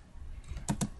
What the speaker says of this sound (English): then you continue typing